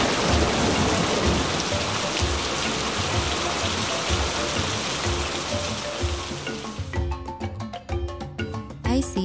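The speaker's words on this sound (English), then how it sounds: "Oh, it's raining." Rain falls steadily as a broad, continuous hiss that stays loud through most of the stretch, then thins toward the end, where scattered louder drops and tonal toy-like sounds come through.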